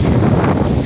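Strong, unusually high wind buffets the microphone outdoors, a loud, close, rumbling roar with gusty swells that fills the moment with no voices.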